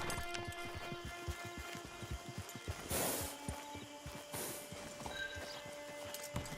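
Horse hooves clip-clopping in the video game Red Dead Redemption 2 Online, a steady quick rhythm of close hoofbeats with a brief burst of noise partway through and a low hum underneath.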